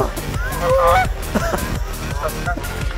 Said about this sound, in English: Look at this, these geese are fighting.